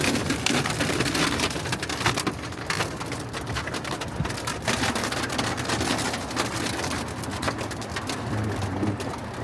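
Rain pours down steadily and hard during a sudden storm that came up fast, a dense close patter drumming on surfaces over a constant hiss, with faint bird cooing in the background; no talking.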